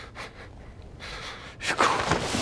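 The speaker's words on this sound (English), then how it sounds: "That shaky breathing can indicate a lot." An injured man in The Last of Us takes shaky, ragged breaths, several uneven gasps and snorting inhales that grow louder and harsher toward the end, close-up with no speech.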